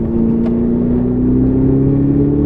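A car on the Silverstone circuit accelerates hard out of a corner, its engine note climbing steadily under load, loud and close, with no talk over it.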